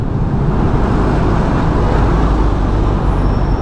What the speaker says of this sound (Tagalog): Ito yung Manila, super traffic, diba?